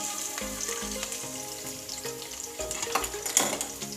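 Cumin and garlic sizzling in hot oil in a home kitchen, a steady bright crackle with occasional sharper pops and stirring, alongside faint background music.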